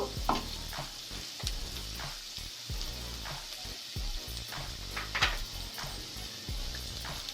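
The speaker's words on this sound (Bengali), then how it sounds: "খুব বেশি ভাজতে হবে না এই কাঁচা গন্ধটা চলে গেলেই হবে" Ingredients for a vegetable soup fry in a pan, a soft sizzle under repeated clinks and scrapes of a spatula, close but fairly quiet, with no speech.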